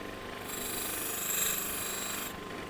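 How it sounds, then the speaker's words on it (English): Rubber scissors are drawn across a Scotch-Brite pad to sharpen them, making one steady abrasive scraping rasp that lasts nearly two seconds and is loud and close, with quieter room sound before and after. "let's try the Scotch-Brite"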